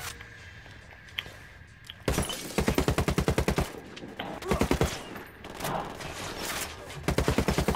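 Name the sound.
gunfire in video game Ghost Recon Wildlands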